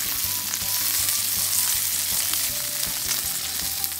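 Anchovy, garlic and a quarter onion frying gently over low heat in a pan: a continuous, even sizzle, close and fairly loud, with faint occasional clinks and no talking.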